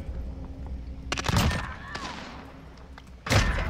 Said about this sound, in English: Why are there so many explosions?